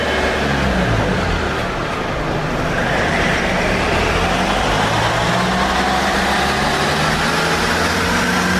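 An Isuzu KB250 engine runs on a dyno held near 3,000 RPM, a loud, steady, close drone with a continuous rumble and a slight rise in pitch partway through, no talk.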